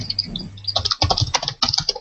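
Keyboard typing from a participant on an online video hangout, heard as a rapid patter of light, close key clicks running unevenly through the moment, with no talk over it.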